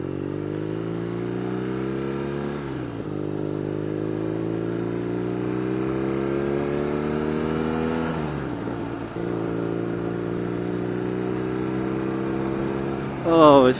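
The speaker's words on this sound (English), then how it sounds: "the sound of that engine, those two Akrapovic exhaust cans, unbelievable" A BMW R nineT motorcycle with twin Akrapovic exhaust cans revving through the gears, rising engine pitch with gear changes near 3 and 8 seconds, loud and steady up close.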